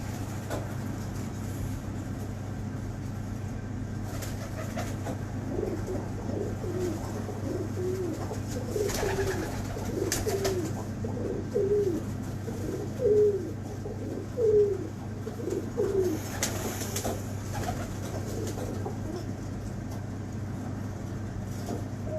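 Pigeons coo nearby in a series of soft, repeated low calls over a steady background hum, with occasional faint noises around them.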